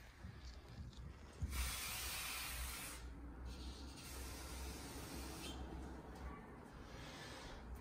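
Insecticide is sprayed onto cockroaches in a sustained, close hissing burst lasting several seconds. A shorter second burst follows, over steady background noise.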